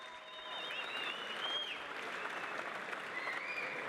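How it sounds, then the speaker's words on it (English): Boxing crowd applauding both fighters after a championship bout, a dense, even burst of clapping that swells in and holds steady, with some whistles and cheers on top. "let's have a round of applause for both Michael Cabato and Jorge Diaz"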